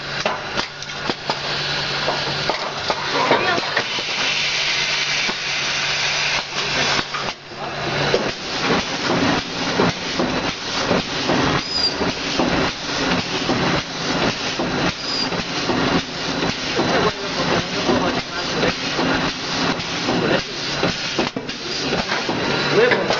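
Starch packaging machine running steadily and loudly up close, a dense mechanical clatter with rapid rhythmic knocking through most of the stretch, a brief louder hum at the start.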